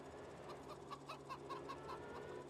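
A chicken in Farming Simulator 22 clucks in a rapid, faint string of short calls over a steady background hum.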